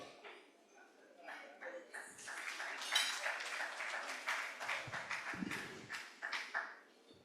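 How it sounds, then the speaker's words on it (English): Round of applause for new members being inducted at a ceremony, a faint, distant patter of many hands that builds after a quiet start and holds steadily, with a low murmur of voices underneath. "Let's give a round of applause to them as they come up."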